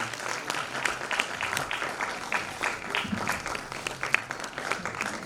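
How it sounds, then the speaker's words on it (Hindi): Audience applause at a business meeting, a steady wash of many hands clapping throughout, moderately loud and fairly close, with scattered sharper claps standing out. "अगर तालियां बजाने में अच्छा लगे तो तालियां अच्छे से बजाते रहेंगे।"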